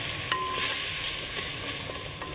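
Lemon juice is stirred through a curry in a pan, with a loud continuous sizzle and a few light scraping strokes of the spoon.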